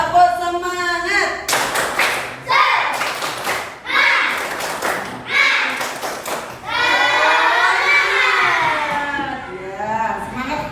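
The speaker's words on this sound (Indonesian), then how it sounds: "Tepuk semangat." A class of children claps out the tepuk semangat rhythm game, several quick bursts of hand claps separated by chanted voices, ending in sustained group shouting.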